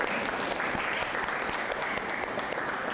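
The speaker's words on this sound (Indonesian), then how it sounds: "Baik, aplaus untuk kita semua." A classroom group claps together in a sustained burst of dense, even applause that holds steady for several seconds.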